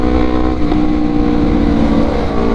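A Honda CBR250RR two-cylinder 250cc sport motorcycle engine drones loud and close at steady high revs, holding a continuous buzzing tone throughout.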